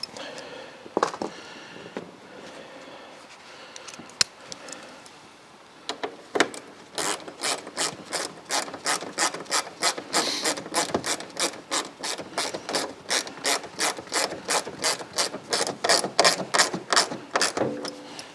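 A socket ratchet tightens a car radiator's retaining bolts in rapid, crisp clicks. The clicking comes in quickening rhythmic runs, close and clear, after a few scattered taps at the start.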